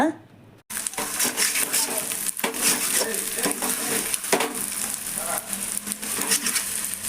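Leftover rice fries into fried rice in a pan with a steady, loud sizzle and the scrape of stirring, while someone talks over the cooking.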